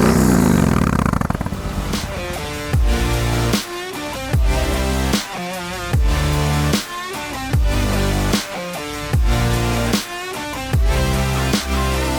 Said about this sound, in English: This is the legendary Yamaha MT01. I am so excited to take this thing for a rip.